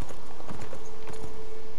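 Horse hooves clip-clop in the video game Beyond Two Souls, a loud, steady run of close hoofbeats with a faint tonal hum under it and no talk.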